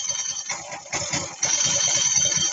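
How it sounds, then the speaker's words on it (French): Dry clutch of a Moto Guzzi Norge 1200 touring motorcycle being pulled at idle, a dry rattling clatter over the steady engine thrum, close and fairly loud, getting louder partway through. "quand vous appuyez sur l'embrayage, c'est un embrayage à sec."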